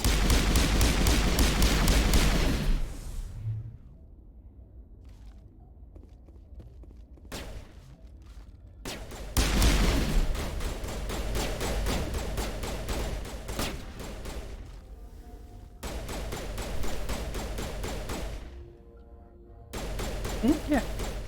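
Sniper and weapon fire crackles in a Mass Effect firefight, with bursts of loud gunshots and booming blasts separated by quieter stretches, some rapid volleys close together.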